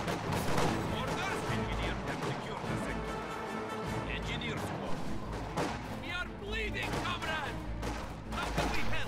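Gunfire and explosions from a World War II real-time strategy game battle with conscripts and Volksgrenadiers, dense crackling shots, booms and crashes under a steady backdrop, with a commentator's voice over the din.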